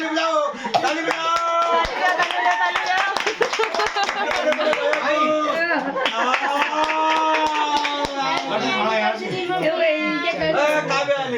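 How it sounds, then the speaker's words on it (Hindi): Wedding guests clap their hands in a quick irregular rhythm, sharp close claps running through nearly the whole stretch while singing voices and chatter carry on over them. "ताली बजाओ ताली बजाओ।"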